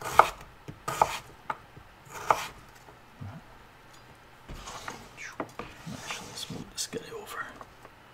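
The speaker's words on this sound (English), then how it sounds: "we're just going to be cutting up potatoes and uh, and onions today" Potatoes and onions are chopped on a board, with a few sharp knife strikes followed by a quicker run of cuts, a person speaking in between.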